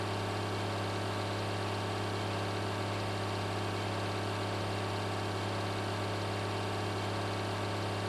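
A beast of a tractor idles in Farming Simulator 2013, a steady droning engine hum with a deep, constant low rumble and no change in pace.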